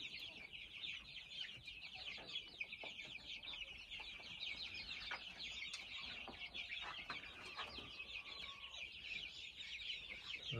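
Young chicks let out to graze outdoors keep up a constant high, quiet chirping and peeping, with scattered clucks among them, all close by and unbroken by talk.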